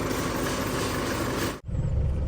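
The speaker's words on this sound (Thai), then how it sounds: "แต่เสียงที่แทรกเข้ามาตอนนี้คือเสียงปั๊มลมนะครับ" Loud, steady mechanical roar and hum of an air pump running over an idling, badly worn car engine, then it abruptly cuts out and resumes.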